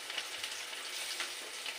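Shrimp frying in a pan for a ridge gourd curry, a steady faint hiss of crackling oil with small pops, no voices.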